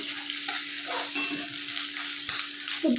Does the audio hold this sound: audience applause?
no